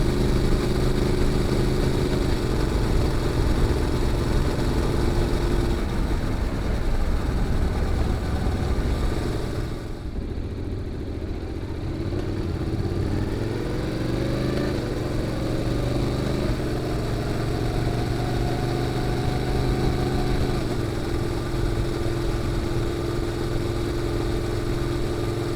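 A Honda NC750X motorcycle fitted with a GPR aftermarket muffler idles loud and steady and close by, with its exhaust note shifting slightly partway through a long, unbroken run.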